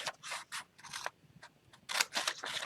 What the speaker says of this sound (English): So I would cut those out.